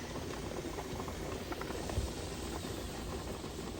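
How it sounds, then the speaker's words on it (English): Steam vents steadily from a pressure canner processing raw-pack Kalua pork, a faint, even hiss with a soft bubbling undertone that holds constant throughout. "Steam has been venting for 10 minutes."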